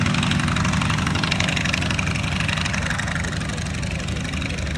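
Corsair warbird aircraft engines at an airshow, a dense, steady roar with a heavy low rumble that stays loud and constant throughout, with no voices.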